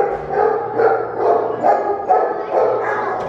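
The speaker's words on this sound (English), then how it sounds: "This dog's name is Precious" A dog barks and yips close by, five or six repeated barks in a steady rhythm, fairly loud, with no talking over them.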